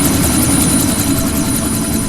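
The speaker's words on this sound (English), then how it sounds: "you need to disable that chopper" A helicopter in the video game Deus Ex: Mankind Divided drones loud and close, a steady unbroken rotor and engine roar with no break or fade.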